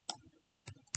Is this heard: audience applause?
no